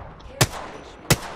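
Two sharp gunshots ring out from a weapon in Apex Legends, spaced about two-thirds of a second apart over a quiet game background.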